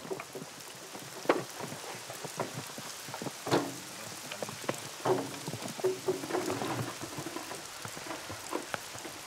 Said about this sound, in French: La bruine qui les a accompagnés tout le long du trajet se transforme peu à peu en une pluie battante.